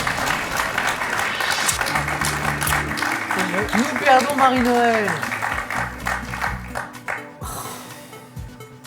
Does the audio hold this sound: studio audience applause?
yes